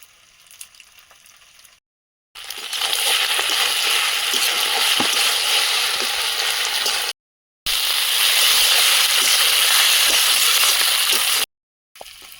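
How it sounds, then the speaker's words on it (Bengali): Pasta with chopped coriander leaves stirred in a pan, a steady loud sizzle running in long stretches with brief silent breaks between them, with no talk over it. "রেডি হয়ে গেছে ধনে পাতা কুচি ছড়িয়ে নেড়ে চেড়ে নামিয়ে নেব"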